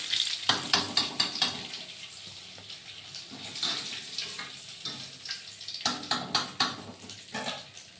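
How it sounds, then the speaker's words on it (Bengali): Pointed gourd (potol) frying in hot oil sizzles quietly beneath irregular bursts of stirring and scraping, with louder clusters of clatter near the start and toward the end. "এইভাবে পটলটা ভেজে তুলে নেব"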